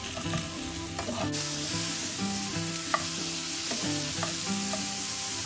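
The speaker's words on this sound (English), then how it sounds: "Just let them start to brown and let the onions cook down a bit." Sausages and red onion brown together in a pan, giving a steady, close sizzle broken by a few light clicks of stirring, with no voices.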